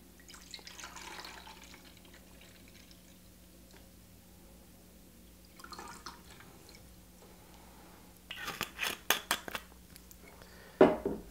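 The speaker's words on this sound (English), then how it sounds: "Now I'm going to add the sweet vermouth here. I'm using Dolin." Dolin sweet vermouth poured from a bottle into a container: a quiet stretch with faint handling noise, then a short gurgling pour with glassy clinks and drips close by near the end.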